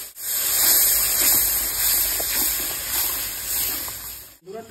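Tomato paste made from three tomatoes hits a pan of hot oil with bay leaf, cinnamon, whole black pepper and cardamom for pahadi chicken, giving a steady, moderately loud sizzling hiss that fades abruptly near the end.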